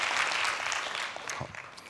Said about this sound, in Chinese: 这个需要给 VV 一个最热烈的掌声